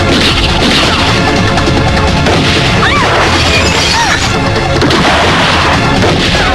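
Loud, chaotic bursts of gunfire and crashing impacts overlap continuously in an action film scene, with whistling ricochet-like tones cutting through the dense barrage.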